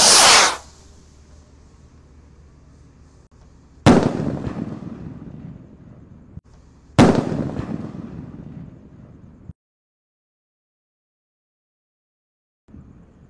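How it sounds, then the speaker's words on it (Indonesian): A Mars rocket firework on a Ramadan night launches in three loud whooshing bursts, each sharp onset trailing off into a fading hiss, with wind rumble on the microphone between them and a faint final pop at the end. "Roket Mars siap meluncur."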